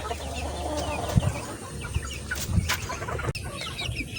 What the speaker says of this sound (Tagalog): so eto na mga manok na uli ko